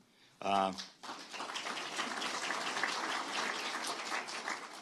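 Audience applause for a redistricting commission member at a Maryland governor's announcement: a brief spoken phrase, then a sustained wash of clapping from the room that holds steady for several seconds at moderate volume.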